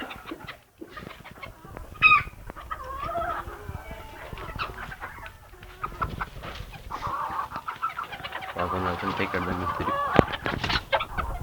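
Broody hens and roosters of ispenç and ataks breeds cluck steadily near a balcony underside, with repeated calls building toward the end, while someone talks over them.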